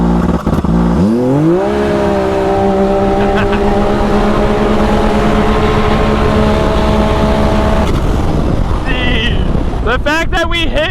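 A turbocharged Can-Am UTV on desert sand revs up and holds high RPM with a steady, loud engine drone, then launches with a rising roar near the end, wind buffeting throughout and people talking over it.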